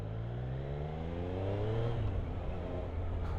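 Triumph Street Triple 765 RS motorcycle engine accelerating, with a rising, revving whine that climbs through the rpm range steadily, heard from on the bike at moderate level with wind rumble beneath.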